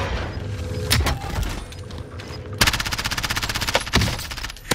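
Rapid automatic gunfire in Call of Duty Warzone on Rebirth Island. Scattered single shots and mechanical clatter lead into a sustained, evenly pulsing burst, with another sharp shot near the end.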